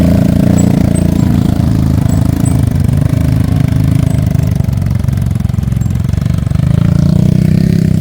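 A motorcycle engine drones and revs steadily while riding over rough forest terrain, loud and close throughout with an uneven, labouring rhythm.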